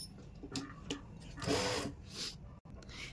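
A sewing machine stitching along the folded edge of a suit collar, short uneven runs of mechanical whirring and clicks, close and moderately quiet.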